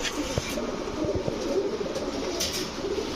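A female Bald Head Archangel pigeon coos softly in a loft, low throaty murmurs repeating through steady background noise with a faint flutter.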